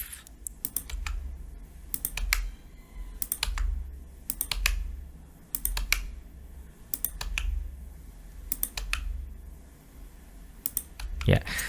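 Computer keyboard typing in bursts of quick clicks, repeated taps as text is deleted, fairly close, with brief quieter pauses between runs and a low background hum.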